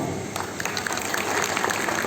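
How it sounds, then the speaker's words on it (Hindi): A crowd claps steadily, a dense patter of many hands at moderate distance throughout. "अब मेरे लिए ताली बजाओ"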